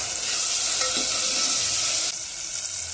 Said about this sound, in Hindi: टमाटे गलने तक हमें इसे भूनना है।